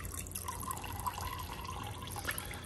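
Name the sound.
water flowing through a siphon into a bucket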